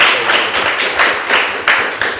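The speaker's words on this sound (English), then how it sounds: "Can we give a big round of applause for the two speakers?" An audience at a photobook salon applauds two speakers after a talk, a dense steady clapping that swells in waves and fills the room without voices over it.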